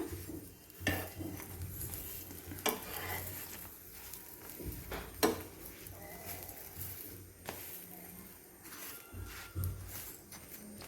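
Pav bread being turned in butter on a pan, with scattered clinks and scrapes of a spatula against metal over a low background, a few sharper knocks spaced irregularly, and faint voice in places.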